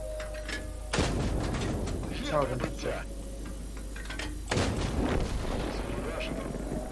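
Two heavy tank cannon blasts in a 3v3 tank video game tournament, a few seconds apart, boom with rumbling tails while players talk in Ukrainian over headsets between them.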